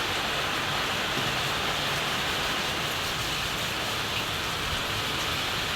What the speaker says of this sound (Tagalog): Grabe po ngayon kalakas ng ulan.